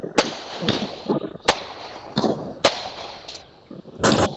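Diwali firecrackers burst in a rapid string of sharp, loud cracks, about seven or eight in four seconds, with echoing crackle in between and no talk.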